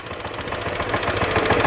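A Honda PCX 160 scooter engine runs rough, a close, gritty, uneven chugging with rapid irregular pulses that swell slightly louder toward the end, no talking over it.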